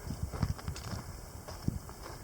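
Horses walking along a mountain trail through a Cercocarpus thicket in the Snake Range, with soft irregular hoof thuds close by and a steady outdoor background, no voices.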